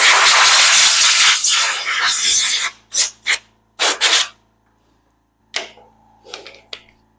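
Compressed air from an air compressor blowing debris off a disassembled Ryobi Expand-It pole saw: a loud, close hiss runs for nearly three seconds, then comes several short sharp blasts, followed by a few fainter bursts after a pause.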